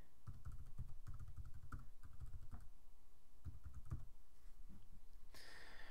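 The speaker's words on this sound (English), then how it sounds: "I type the domain name that I'm using" Computer keyboard typing while entering a domain name during a WordPress setup, a quick run of clustered clicks and key taps with brief pauses, close and steady, no voices.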